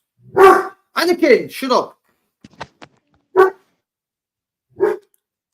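A dog barks a few times, sharp and close, with pauses between, and a person speaks briefly between the barks.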